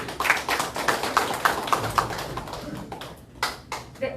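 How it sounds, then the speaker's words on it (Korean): A small audience at a public history lecture in Namwon claps in a sparse, uneven patter of distinct hand claps that thins out toward the end, with nobody speaking over it. "우리 박진기 회장님 앞으로 나와주시고 박수 한번 보내주세요."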